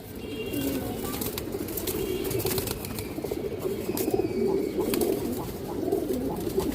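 A female pigeon coos in a steady, low murmur that continues throughout, with other pigeons and faint wing flutters in the background and a voice occasionally talking.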